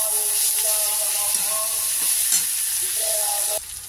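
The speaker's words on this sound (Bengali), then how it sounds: "বাঁধাকপিটা দিয়ে বেশি ভাজবো না" Shredded cabbage fries and sizzles in a pan with a steady hiss while being stirred, scraping sounds breaking through now and then before the sizzle abruptly drops near the end.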